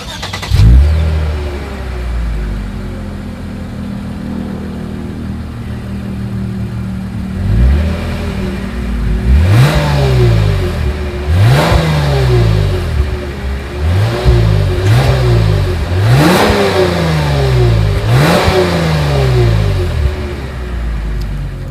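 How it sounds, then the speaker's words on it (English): A 2020 Lexus IS 300 F Sport engine starts with a loud burst, then revs up repeatedly in sharp, rising climbs, each falling back to a throaty idle, very close. "As always, here is that exhaust clip."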